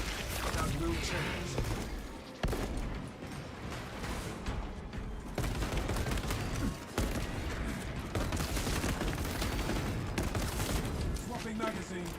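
Heavy heroic bolt rifle fire in a Warhammer 40K shooter game, dense rapid bursts with crashing impacts running almost continuously, loud and mixed with someone talking over the combat.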